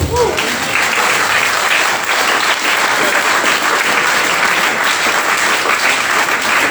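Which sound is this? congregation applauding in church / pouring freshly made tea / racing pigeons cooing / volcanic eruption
congregation applauding in church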